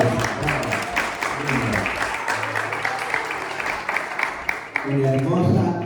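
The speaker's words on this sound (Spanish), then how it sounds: "Replicamos el aplauso muy fuerte." Applause from an audience after a presentation, many hands clapping in a busy continuous patter with voices talking and cheering over it, growing louder toward the end.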